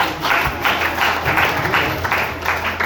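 Audience at a seminar clapping together in a steady rhythmic pattern, moderately loud and close, continuing evenly for a few seconds.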